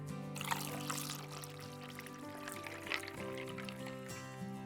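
Cranberry juice poured over ice into a glass for a mocktail, a steady gurgling trickle of liquid with faint fizzy crackle, close and continuous, over a low background hum; no voices.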